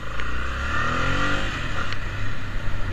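Honda Transalp 700 motorcycle engine revving up and easing off from a riding position, a loud continuous rising and falling drone with wind rush, no talk over it.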